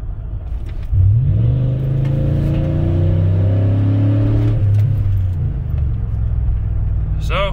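A 2011 Chevrolet Tahoe 5.3 pickup with an aftermarket Black Widow Race Venom axle-dump exhaust rumbles and revs up loudly close by, a deep throaty exhaust rising and holding steady, then settling back to idle.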